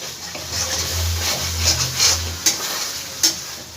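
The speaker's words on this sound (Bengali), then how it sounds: "এবার সম্পূর্ণ মশলাটাকে আমি খুব ভালো করে ভেজে নেব যতক্ষণ না মশলা থেকে তেলটা ছেড়ে দিচ্ছে" Spice masala frying in oil while being stirred, a moderate close sizzle broken by sharp scraping and clinking strokes of a spoon against the pan.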